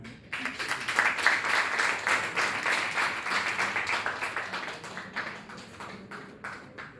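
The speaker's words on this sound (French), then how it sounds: "On va applaudir les Coréens." A festival crowd in Abidjan applauds Korean performers steadily for several seconds, the clapping falling into a loose rhythmic beat before tapering off.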